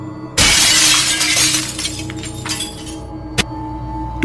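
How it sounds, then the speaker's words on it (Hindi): A television screen shatters as a flowerpot is smashed into it in a Hindi horror story: a loud, sudden burst of breaking glass that rings and tinkles off, followed by a sharp single clink near the end. "इतने में वो पूरे जोर से गमला टीवी पर मारती है और स्क्रीन चकनाचूर"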